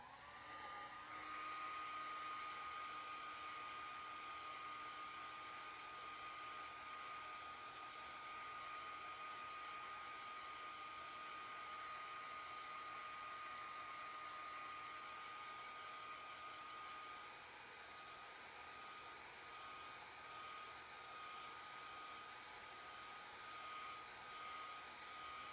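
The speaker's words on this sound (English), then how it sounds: "I'm going to go ahead and blow dry this." A hair dryer blowing on a painting, a steady close whirring roar with an airy rush and a faint whine that runs unbroken for the whole stretch, alone with no talk.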